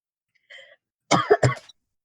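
A person in a voice chat coughs and clears their throat in a short, close cluster of rough bursts, preceded by a faint tonal beep.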